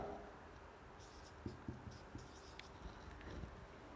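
Chalk or marker writing on a classroom board during an English grammar lesson: faint, close scratching strokes with a few short taps, very quiet and with no talking.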